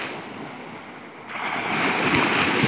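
Sea waves wash onto the shore at Kaugurciems, a steady hiss of surf that swells louder halfway through, with a little wind, and no voices.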